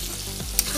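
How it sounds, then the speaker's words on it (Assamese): Ginger and garlic fry in a pan as the base for a fish curry, a steady close sizzle with a brief stirring clink. "এতিয়া এইখিনি ৰঙচুৱা নোহোৱালৈকে ভালদৰে ভাজি থাকিব।"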